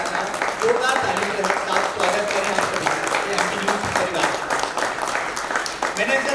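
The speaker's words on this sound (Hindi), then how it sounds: "जोरदार ताली के साथ स्वागत करें आप सभी" Enthusiastic applause from a crowd welcoming a state minister at a stage event for a Tiranga festival in Madhya Pradesh, steady dense clapping filling the whole stretch with a voice talking over it.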